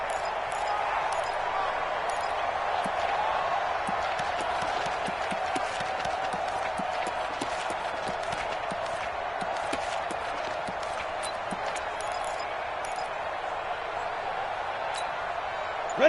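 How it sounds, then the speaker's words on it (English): A stadium crowd roars steadily in a Madden football video game, a dense wash of cheering that holds at an even level throughout, with a commentator's voice occasionally in the mix. "the crowd getting into it as we come up on a big 3rd down"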